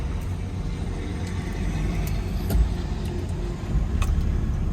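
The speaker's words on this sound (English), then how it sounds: "Ooh, that quick, nice, cold start." A 1965 Ford Mustang engine rumbles steadily at close range after a cold start, a low continuous idle with a few slight surges and no voices.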